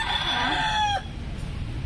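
A rooster crows once in Baler, Aurora, Philippines, a loud drawn-out call that breaks off abruptly, followed by quiet outdoor background.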